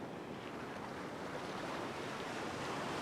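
Big waves and wild surf pounding a beach, a dense continuous roar of breaking water with wind noise, loud and unbroken throughout with no talking.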